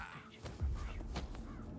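Crows cawing from a tree in the Hitman 3 video game, a few rough caws spaced over a short moment against a low background rumble.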